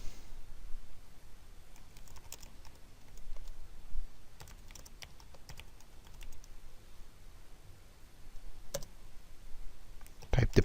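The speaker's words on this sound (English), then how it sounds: "let us type the below command" Quiet clicking of keys as a command is typed on a computer keyboard, irregular soft taps spread across the clip under a low hum, with a voice speaking at times.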